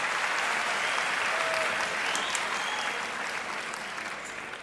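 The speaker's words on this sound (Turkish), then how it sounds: "Ya bir moral alkış alabilir miyim?" Audience applause at a stand-up comedy show: steady, dense clapping from a crowd that fills the whole stretch and tapers off slightly toward the end.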